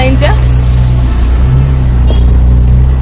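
Road traffic in a jam near a railway line in Asansol, with loud, constant engine rumble and idling vehicles close by and a voice talking over the noise.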